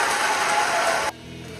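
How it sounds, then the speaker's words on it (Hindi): Applause fills an assembly hall at a teachers' convention with Bihar's chief minister, a dense steady clapping that cuts off abruptly after about a second. "इस ऐलान के बाद अधिवेशन हॉल में तालियों की गूंज सुनाई देने लगी"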